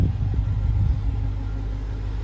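A 2016 BMW X5 M-Sport's 4.4-litre twin-turbo V8 idles with a deep, steady rumble close by, a low throbbing hum that stays even throughout.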